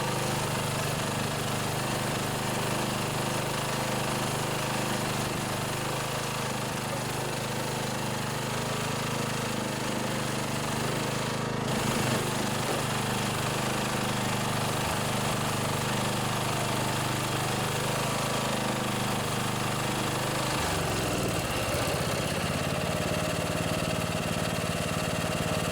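A Briggs OHV riding lawnmower engine runs steadily and loudly throughout, with a continuous mechanical drone and slight shifts in pitch near the end.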